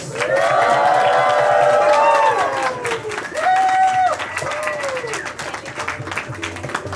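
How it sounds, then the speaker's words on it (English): Wedding guests applaud and cheer as the bride enters, a dense wash of clapping with whoops, while tonal melodic sounds, likely music or singing, sweep over it; voices mix in throughout, loud and close. "Please give a round of applause."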